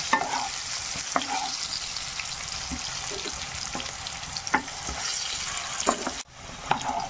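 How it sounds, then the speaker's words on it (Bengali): Potatoes with salt and turmeric frying in a pan give a soft continuous sizzle, broken by repeated clicks and scrapes of a spatula stirring them. "আলুগুলোকে একটু ভেজে নিই।"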